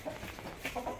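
A rooster or hen on a farm clucking in a few short, soft bursts, faint and fairly near over low background noise.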